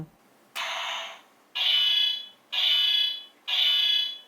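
DX Sentai Ring King-Ohger toy playing an electronic sound effect, four loud, bright buzzing tones pulsing about once per second with short gaps between them.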